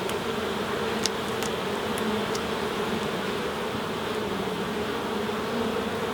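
Honey bees hum in a dense, continuous drone close by during a UK hive inspection, with a few brief clicks over the buzzing.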